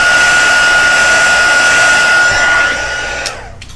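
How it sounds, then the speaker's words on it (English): A heat gun blows hot air over a craft piece for winter tree tops, giving a loud, steady whooshing roar with a thin whine that is swept side to side and drops away near the end. "Now I'm just going to move the heat gun over from right to left,"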